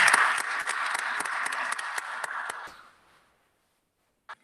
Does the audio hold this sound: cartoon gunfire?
no